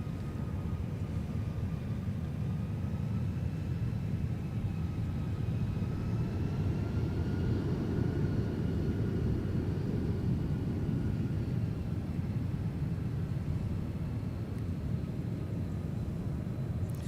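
A Mesa Airlines jet pushes back at the airport for a flight to Houston, its engines giving a steady, distant broadband rumble with a faint whine that holds constant throughout.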